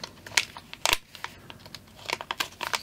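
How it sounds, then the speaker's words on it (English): A small knife cutting through tape on the packaging of a JTS MA-123 adjustable attenuator, heard as soft close-up scratches, crinkles and slicing snicks in irregular bursts, faint and without talk. "Let's just get a little knife and cut through that."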